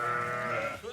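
A sheep on a livestock farm bleats once, a single loud, close, wavering cry lasting about a second.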